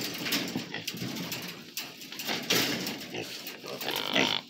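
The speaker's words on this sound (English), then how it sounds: "these are my pigs." Pigs on a farm grunting and snorting in a steady, close run of short noisy calls, with some faint broadband clatter around them.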